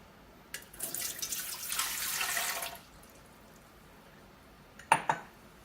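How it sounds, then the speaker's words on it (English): Warm water pours into a KBS bread maker pan in a steady, moderately loud stream lasting about two seconds, followed after a pause by a couple of sharp clinks, with no talking. "So start off with 240 milliliters of warm water."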